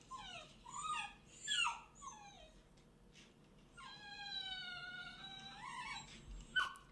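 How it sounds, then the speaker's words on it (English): Two dogs howl and whimper in long, wavering, yodel-like cries, with several rising and falling whines followed by a sustained howl, fairly faint against a quiet background. "Is that dog in pain?"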